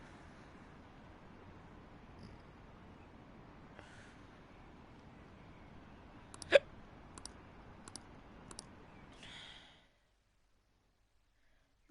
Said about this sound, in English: Got some bad hiccups.